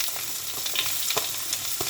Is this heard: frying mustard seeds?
yes